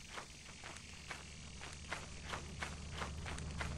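Bees in the video game Lethal Company give a low, steady buzzing drone beneath a run of repeated, evenly spaced footsteps.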